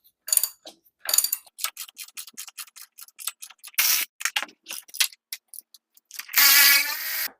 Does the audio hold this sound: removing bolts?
yes